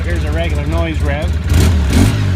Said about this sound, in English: Regular noise rev.